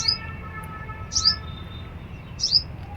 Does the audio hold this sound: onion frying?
no